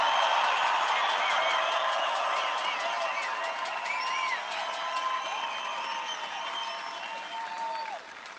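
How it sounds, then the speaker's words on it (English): A large outdoor crowd at an airport political rally applauds veterans loudly, with whoops and cheers over sustained clapping that slowly fades. "I think we all should give them a tremendous round of applause"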